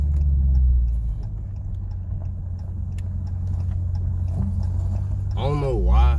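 Dodge Challenger Scat Pack on a hot lap, a steady, low engine rumble heard from inside the cabin, with a voice speaking briefly near the end.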